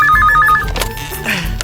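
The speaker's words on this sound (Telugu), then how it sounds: "ఫోన్ వస్తుందండి." A telephone rings with a rapid electronic warble in short bursts, loud and close, then gives way to clattering handling noises and a brief voice.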